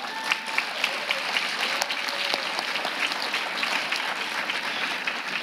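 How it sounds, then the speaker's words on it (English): An audience applauds a children's choir at a primary school winter concert, steady dense clapping holding throughout at moderate loudness with no voices over it. "another round of applause for these young talents"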